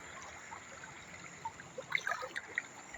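Clear water trickles softly through a shallow stream on a rural smallholding in Brazil's Northeast, faint and close, with scattered small splashes and gurgles over a steady hiss.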